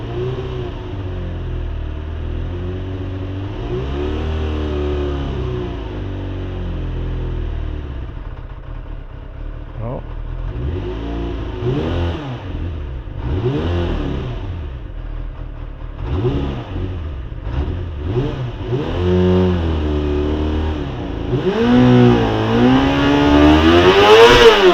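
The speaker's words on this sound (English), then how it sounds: "Now these bikes like to be revved." A 1991 Kawasaki ZXR400 fitted with a beefy Micron exhaust idles close by, then is blipped through a series of sharp, rising and falling revs that grow louder and higher toward the end, with no talking over it.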